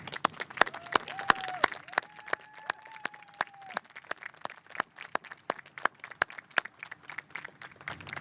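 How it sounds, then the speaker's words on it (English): Audience applause for medical school graduates at a diploma ceremony, sparse separate claps from a modest number of hands, moderately faint and steady throughout, with a voice briefly heard early on. "Please join me in a round of applause for our graduates"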